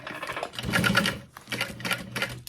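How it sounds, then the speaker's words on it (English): A sewing machine stitches a strap onto a sling bag in two short bursts, close and fairly loud, with a brief pause between the runs of rapid needle clatter. "And now we'll sew it on."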